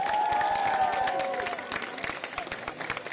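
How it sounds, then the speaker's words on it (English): An audience at a cosplay chess event applauds a foreign guest, with dense clapping and some cheering that fades after a couple of seconds into scattered claps under voices. "Give him a round of applause."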